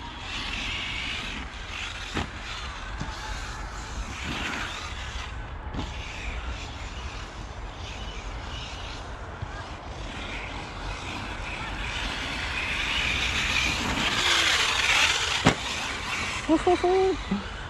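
A powerful rally-style car driving hard on a race track with jumps, its engine droning steadily throughout and swelling louder near the end, with a few sharp knocks and a voice talking over it.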